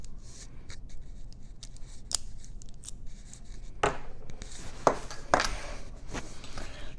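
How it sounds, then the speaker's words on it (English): Master Lock VLine padlocks being locked, a string of sharp metallic clicks and snaps as shackles are pushed down, with light rubbing and handling between them and no talk. "So to lock it, all you got to do is turn it around and push down, and then take the key out."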